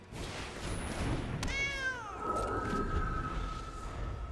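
A cat meow sound effect from the video game MTG Arena, one drawn-out, gliding meow near the middle over a steady background hum, with no talk.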